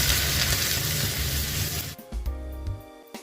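Onion sizzling in half a cup of hot oil for a ginger chicken dish, a dense steady crackling hiss for about two seconds, then it drops away to quieter scattered pops and faint clinks from the pan.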